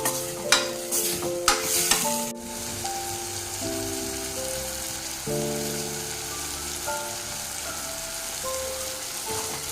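Tomatoes cooking down in a pan for idli sambar, a soft even sizzle with a couple of brief clattering stirs at the start, close by, no voices.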